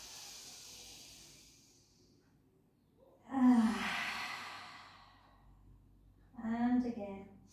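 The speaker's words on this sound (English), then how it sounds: "Take a breath in." Two deep breaths during a gentle pilates stretch in a post-breast-cancer-surgery rehabilitation session, each a close, breathy inhale-exhale rising and fading, separated by a few seconds of quiet.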